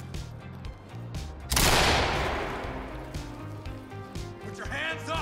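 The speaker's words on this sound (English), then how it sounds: "I'm gonna throw a flashbang." Flashbang grenade detonating in the tactical shooter Ready or Not: a single loud, sharp blast that decays into a long ringing wash, with game background sound and a brief voice near the end.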